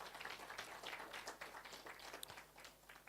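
A crowd applauding steadily throughout, a dense wash of many hands clapping at moderate volume with no talking.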